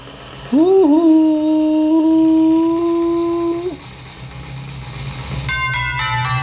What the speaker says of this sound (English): Let's go, time to spin wheel.